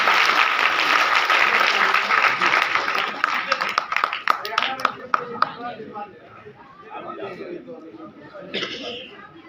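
An audience at a stage play of Mughal-e-Azam breaks into loud, dense applause that gradually thins into scattered claps and murmurs.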